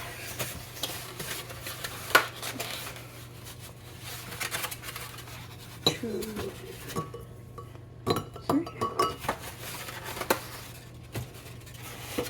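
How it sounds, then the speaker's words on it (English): Eggs are beaten in a bowl for apple cinnamon muffins, with frequent light, irregular clinks of the utensil against the bowl at close range and no talking. "So we use this to beat the eggs and that to put the liquid ingredients in."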